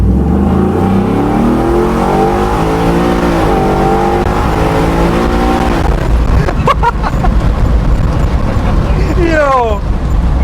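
A restored 1971 Ford Bronco accelerating from a standstill, its engine note rising and shifting through the gears, loud and close, with people talking over the engine throughout.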